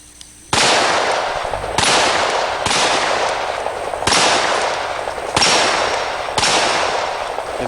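Gunshots on an outdoor shooting range at a training academy, six loud sharp reports at roughly one-second intervals, each followed by a short decaying echo, with no talking.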